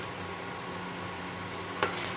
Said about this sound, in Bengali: পেঁয়াজটা লাল করে ভেজে নিতে হবে